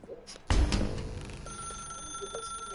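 Telephone ringing in The Stanley Parable, a sudden loud ring that starts abruptly and lingers with a sustained tonal buzz, with faint sound in the background.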